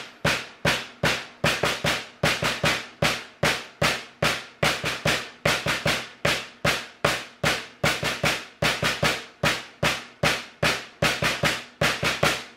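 Snare-heavy drum exercise for the weak hand, with fills moved onto beats 2 and 4, played alone at a brisk, steady tempo in a loud, unbroken run of sharp strokes grouped in repeating bursts.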